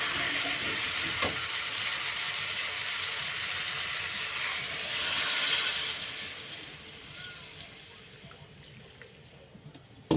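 Water poured into a hot pan of fried ground spices, a loud steady steamy hiss that swells in the middle and then slowly dies down, close by with no speech.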